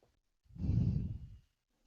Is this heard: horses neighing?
no